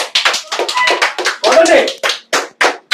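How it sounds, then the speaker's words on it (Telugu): An audience at a rapid-fire vocabulary quiz round claps in loud, closely spaced bursts that break into a rhythmic run of separate claps near the end, with voices mixed in. "క్లాప్స్."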